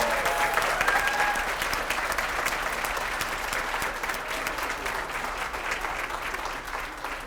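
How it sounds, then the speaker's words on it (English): Audience applause for the winners at a Harford County Leading Women awards event, a full steady round of clapping from a large crowd, loudest at the start and gradually easing. "let's give all of our winners one more round of applause"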